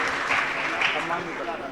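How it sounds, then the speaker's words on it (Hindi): An audience at a religious gathering applauds to welcome a guest, a transport commissioner: a continuous wash of clapping, somewhat faint and distant, with speech mixed in. "जरा जोरदार तालियों के साथ हम स्वागत करेंगे"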